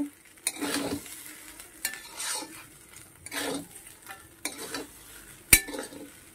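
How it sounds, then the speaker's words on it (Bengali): Fried chicken and prawns being stirred in a pan, a series of scraping stir strokes over a soft sizzle, close by, with one sharp metallic clink of a utensil near the end. "এবার দেখো বন্ধুরা সেই চিকেন আর চিংড়িটা ভেজে রেখেছিলাম সেটা দিয়ে দিলাম, দিয়ে ভালো করে মিক্স করে নেব।"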